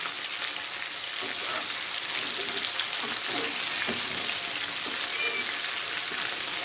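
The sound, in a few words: besan-coated fish frying in oil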